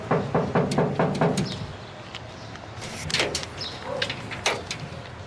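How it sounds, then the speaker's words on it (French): Knocking on a door in a French-dubbed telenovela scene: a quick run of about five or six sharp, evenly spaced raps, then quieter room sounds and faint movement. "alors, on va frapper à la porte."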